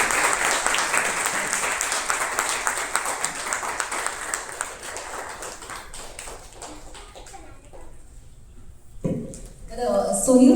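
Audience applause breaks out at a Warkari devotional abhang music event honouring a guest, dense steady clapping filling the room for several seconds, then thinning out before a voice and a fresh burst at the end.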